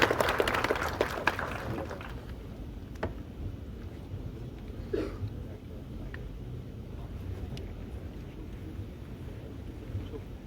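Audience applause welcoming the chairperson at the opening of an academic research methodology event; a burst of clapping fills the first two seconds, then fades into low room murmur and background noise.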